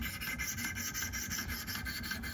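A knife blade is rubbed back and forth on a 200 grit sharpening stone, giving a steady, close rasping scrape with quick regular strokes that runs alone and without pause.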